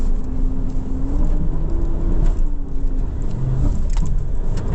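2025 Mitsubishi Triton GLX pickup climbing off-road in second gear, a loud, steady engine drone with low rumble and slight pitch shifts, heard from inside the cab, with faint clunks and rattles over rough ground.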